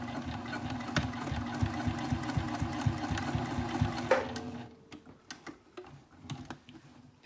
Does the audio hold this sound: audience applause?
no